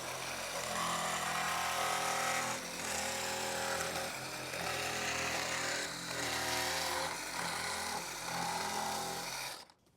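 A power saw blade cuts through plastic for a 6x9-inch speaker kit on a 2014-2023 Harley-Davidson motorcycle, giving a loud, steady whine that pulses as the cut moves along, then cuts off abruptly just before the end.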